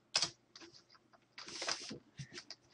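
Quiet typing on a computer keyboard, a few short bursts of clicking keystrokes separated by brief pauses, close and soft.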